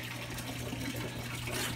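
Water runs for a bath, a brief low-level gushing wash with a steady hum beneath it, close and continuous for under two seconds.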